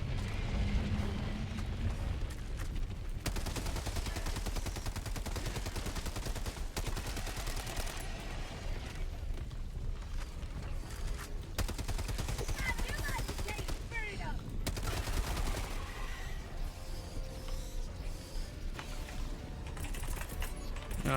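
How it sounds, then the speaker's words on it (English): Rapid, sustained minigun fire in a video game battle against bugs, a dense continuous rattle of rounds running loud for the whole stretch with brief dips, while players talk over it. "There's quite a few rounds of the minigun."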